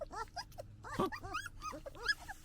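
A litter of puppies whines and yips in rapid high-pitched bursts, several small voices overlapping close by, busy and continuous over a couple of seconds.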